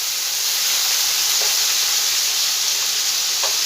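Onion paste sizzles and fries in a pan for Bengali-style chicken chana masala, a steady bright hiss running throughout with a couple of faint clinks, no talking.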